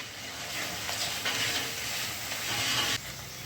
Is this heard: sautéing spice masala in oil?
yes